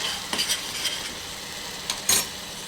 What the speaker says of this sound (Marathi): भाजीत मसाला चांगला फ्राय झाला आहे, त्याला चांगलं तेल सुटलेलं आहे